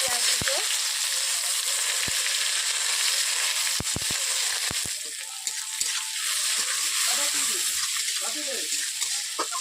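Onions fry in oil with salt, black cumin and bay leaf as the base of a Bengali mustard rui fish curry, giving a continuous loud close sizzle with occasional sharp pops and scrapes and a faint voice underneath.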